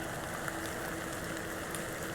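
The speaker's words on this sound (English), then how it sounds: "A little rain is no bother." Steady rain hisses evenly over everything in the video game Excavation of Hob's Barrow, a soft, continuous patter on surfaces with no voices over it.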